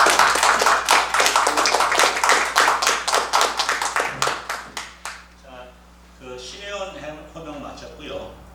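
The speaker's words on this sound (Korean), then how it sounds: "우리 나머지 노의원들은 박수로 받아주시기 바랍니다" Applause at a church presbytery business meeting: about five seconds of brisk, loud clapping with distinct individual claps, which fades out as a person begins speaking.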